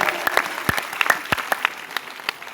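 An audience claps for its leaders at a motivational gathering, with scattered, uneven hand claps that sound close and fairly loud over a short stretch.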